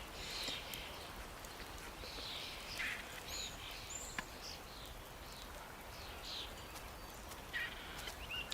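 Faint bird calls chirp several times over quiet forest ambience in the Card Survival: Fantasy Forest video game, short scattered notes repeating across the scene.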